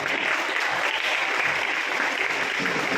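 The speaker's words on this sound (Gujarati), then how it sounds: "તાળીઓ પાડવી જ પડે એવું કહેવાનું જરૂર ન હોય।" Dense, steady applause from a large seated audience at a school event, many hands clapping together in an even, continuous roar at moderate loudness with no voices standing out.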